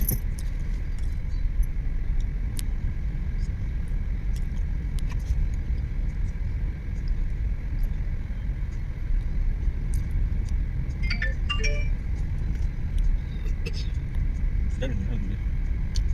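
A car being driven and shifted into second gear: a steady low engine and road rumble throughout, with faint clinks and rattles inside the cabin and people talking over it.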